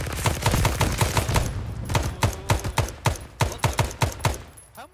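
Rapid bursts of machine gun fire in Arma 3 S.O.G. Prairie Fire, a Vietnam War combat game, cracking out in quick uneven volleys with sharp repeated reports, loud and close throughout.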